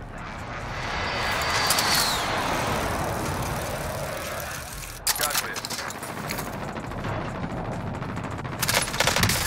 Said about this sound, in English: Marking location for airstrike.